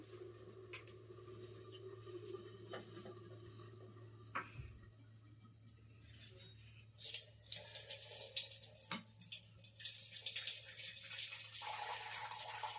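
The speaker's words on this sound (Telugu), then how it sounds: "వాటర్ ఒక బౌల్లోకి తీసేసుకుందాం." Cooking water is drained off boiled lentils into a bowl, first as a faint trickle and then as louder, uneven splashing and gushing in a quiet kitchen.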